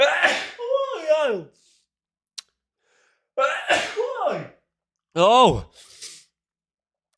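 A person sneezes close to the microphone, with sharp bursts repeating as the sneezing continues, amid brief exclamations.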